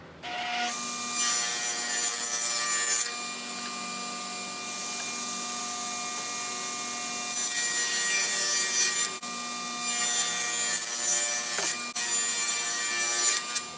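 Wood pieces are cut on a table saw with a crosscut sled, the blade whining in a steady hum that rises into several loud harsh bursts of sawing as each piece passes through, no talking.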